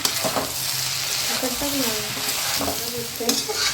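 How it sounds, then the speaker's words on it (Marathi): Cooked rice stir-fried in a pan with raw mango, turmeric, salt and spices, a continuous close sizzle under repeated scraping and tossing strokes of a spatula, with scattered clinks against the pan. "आता हा भात परतून घेऊया"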